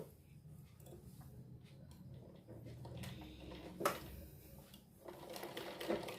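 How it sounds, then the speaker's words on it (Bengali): A sewing machine stitches around a blouse neckline, running quietly in short steady bursts with small ticking clicks, fairly faint and close, with no talking. "আমরা এই সেলাইটার উপর দিয়ে দিয়ে গলাটা আমরা সম্পূর্ণটা আস্তে আস্তে করে সেলাই করে দেবো"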